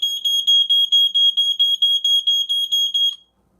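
Loud, shrill beeps from a Fyrnetics Lifesaver 0908 smoke alarm horn repeat in a fast steady pulse, close and piercing, then cut off abruptly.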